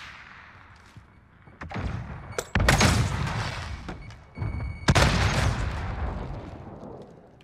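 A grenade explodes in a Call of Duty 2v2 Gunfight match: two loud, booming blasts stand out among rapid bursts of close gunfire.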